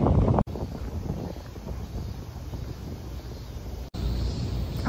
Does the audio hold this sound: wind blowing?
yes